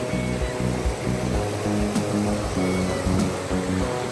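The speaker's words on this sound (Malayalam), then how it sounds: "ഇതാണ് വെള്ളച്ചാട്ടം" A forest waterfall in the Nilgiris hills rushes steadily nearby, a dense constant roar of falling water with faint voices and a couple of brief clicks beneath it.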